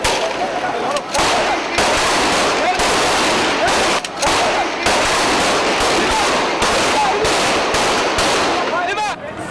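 Police shelling and firing at protesters in a street clash, loud dense bursts of rapid gunfire and blasts with brief gaps, crowd noise mixed underneath throughout.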